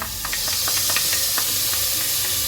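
Finely chopped onions hit a hot pan and give a steady, loud hiss and sizzle, with scattered crackles throughout and no talking.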